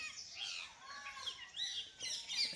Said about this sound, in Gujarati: એટલા બધા પોપટ બોલે છે કાબર બોલે છે જાત જાતના પક્ષી બોલે છે